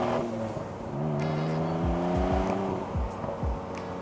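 A 1995 Mitsubishi 3000GT VR-4 Spyder accelerates from inside, the engine note climbing steadily through the gears with a few quick dips at each shift, loud and close.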